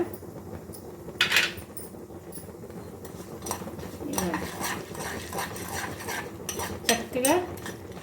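Urad dal and cumin roasting in a pan on medium flame, with intermittent metal scraping and clinking of a spoon against the pan over a soft background sizzle.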